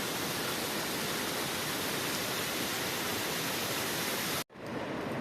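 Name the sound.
small waterfall on the Pindari Glacier trek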